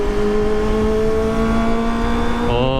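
A Kawasaki ZX25R four-cylinder motorcycle pulls hard under acceleration, its high-pitched inline-four wail climbing steadily, loud and close. The note shifts sharply just before the end, as if on a gear change.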